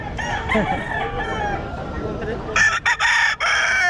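Several roosters crow in Bocaue, their calls overlapping near and loud. A long crow leads into a rapid, broken series of crows toward the end.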